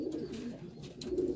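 Domestic pigeons in a backyard breeding loft coo steadily, low rolling calls repeating close by with no talking.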